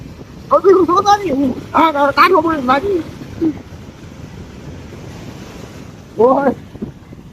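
Sea waves wash onto the shore in a steady roar with wind buffeting the microphone, while voices speak in short bursts over it.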